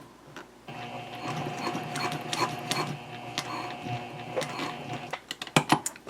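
A sewing machine stitching a messenger handbag near a rectangular ring, running in a steady mechanical whir with rapid needle clatter, then slowing into a few sharp, separate clicks and thumps at the end.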